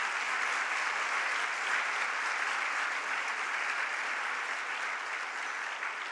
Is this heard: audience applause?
yes